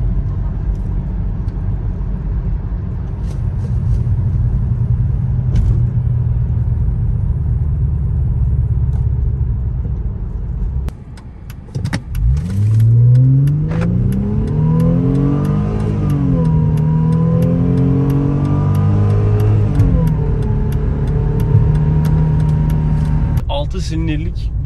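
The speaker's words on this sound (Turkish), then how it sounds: "Bu arabayla kasisten geçmek zevkli oluyor." A car engine rumbles steadily, then a jolt and rising revs as the car bumps over a speed bump, with a low hum continuing afterward.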